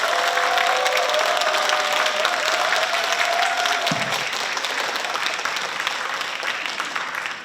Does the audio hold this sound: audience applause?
yes